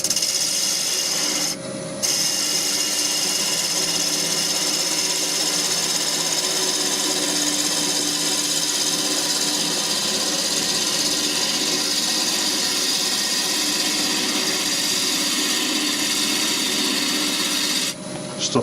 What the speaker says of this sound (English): got the roughing gouge, going to smooth it off a little bit